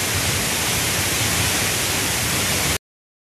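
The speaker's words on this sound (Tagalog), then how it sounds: "Ito ang tunog ng waterfalls mga igso." Steady, full rushing roar of Seven Falls at Lake Sebu, loud and close, continuous with no voices.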